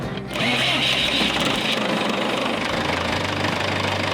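A boat engine, hot-wired at the starter, kicks in and runs with a loud, steady, knocking rumble close by, without pause.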